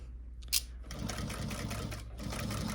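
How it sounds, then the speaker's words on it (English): A sewing machine runs a basting stitch along drapery fabric with no backstitching, a steady close mechanical whir after a brief click, continuing evenly without talk. "So my first pass is basically a basting stitch."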